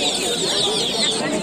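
Chickens cluck and squawk in a dense, continuous chorus at a poultry market on Galiff Street in Kolkata, close and fairly loud, with people talking over the birds.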